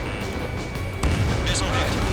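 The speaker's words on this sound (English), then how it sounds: "Missile hit." Missile striking a target in the flight combat game Ace Combat 7, a sudden impact about midway that lifts into a louder rumbling blast over steady jet engine drone.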